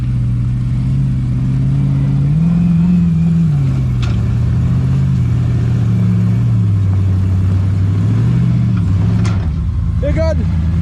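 An off-road vehicle's engine labours and revs while climbing a hill on an OHV trail, a loud, close, droning growl that rises and falls in pitch, with people talking over it.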